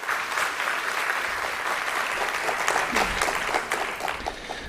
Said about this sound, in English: So let's give them a big round of applause today.